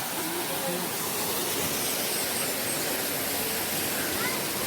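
Mandayao Waterfall in Negros Occidental, Philippines, pours in a steady, dense roar of falling water, loud and unbroken from start to finish, with faint voices barely showing through.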